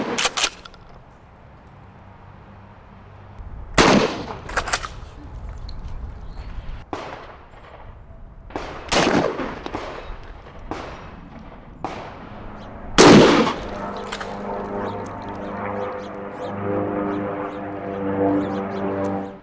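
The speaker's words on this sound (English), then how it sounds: "we just fired one round. A Federal Tactical Police Load 9 pellet at 20 yards out of that Kel-Tec shotgun, the KSG" Kel-Tec KSG shotgun firing Federal Tactical Police Load buckshot outdoors, several sharp loud blasts spaced seconds apart, each followed by a brief echoing tail.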